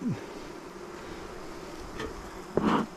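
Honeybees buzz steadily around an open hive during an inspection, a continuous close drone with a louder bee passing near the end over faint wind.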